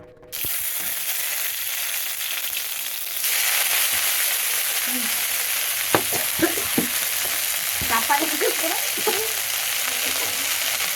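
Vegetables frying in a pan for a home cooked Bengali meal, a loud, steady sizzle that swells after a few seconds, with occasional stirring clicks and scrapes near the end, no speech.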